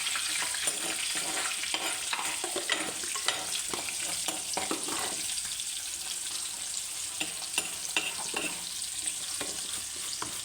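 Kudampuli pieces and fenugreek seeds fry in oil in a fish curry pan, giving a lively close sizzle with frequent scraping stirs and light crackles throughout.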